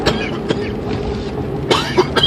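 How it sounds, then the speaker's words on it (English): A sick person coughs a few times, short harsh bursts standing out near the end over a steady low background rumble. "Sorry about the cough, I'm sick."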